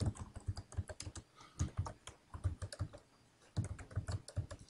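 Rapid keystrokes on a computer keyboard come in quick bursts with short pauses between them, close and fairly quiet, while a username and initials are entered in Color Manager software. No one speaks.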